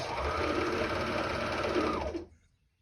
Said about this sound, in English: Stop, align, adjust if needed, and sew.